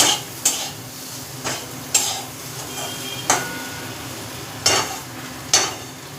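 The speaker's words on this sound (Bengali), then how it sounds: "ভাজা মশলাটা দিয়ে নাড়ালাম।" A spoon stirs fried spice mix through amla (Indian gooseberry) pickle in a pan, making about six evenly spaced scraping strokes over a low, steady sizzle.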